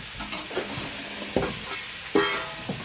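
Vegetables with pumpkin and potato fry in a pan, a steady hiss punctuated by a few distinct stirring scrapes and clinks close by as spices go in.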